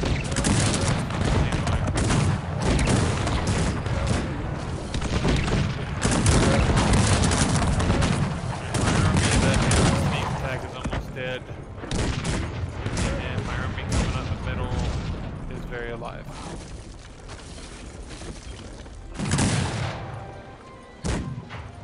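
Cannon and massed musket fire in the Cossacks 3 strategy game: dense, continuous volleys and booms that swell and ebb throughout, loud and crowded, with someone talking over the battle.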